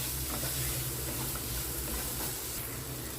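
Sevai vermicelli roasting in a pan with garam masala over a medium flame, giving a steady close sizzle with faint stirring scrapes throughout and no talking.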